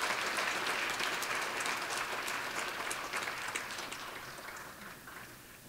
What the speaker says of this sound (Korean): 다시 한번 뜨거운 박수로 격려하겠습니다